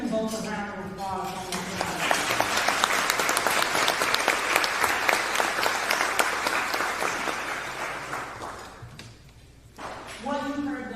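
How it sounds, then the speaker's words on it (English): Sustained audience applause at a fair housing month luncheon, a dense roomful of clapping that swells and holds for several seconds before fading, with voices speaking just before and after it. "Let's give them both a round of applause."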